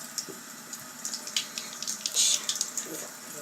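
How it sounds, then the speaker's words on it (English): Water runs from a small sink faucet as hands are washed, splashing and trickling unevenly with bright spattery bursts, fairly close and moderately loud. "Oh, it's the little faucet thing."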